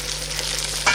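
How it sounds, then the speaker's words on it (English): Sausages frying in a pan give a close, steady sizzle of crackling fat, a brief hiss lasting about a second. "I'll check on my sausage, which is cooking right here"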